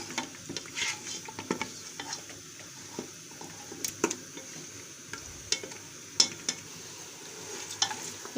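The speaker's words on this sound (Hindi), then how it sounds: "इसको मिक्स करेंगे, इसमें अच्छे से इसको भून लेंगे और इसके कलर को वाइट कर लेंगे।" Mutton frying in a pot while being stirred, a continuous sizzle broken by repeated scraping and knocking strokes of a spoon against the pot at an irregular rhythm, close and moderately loud, with no voices.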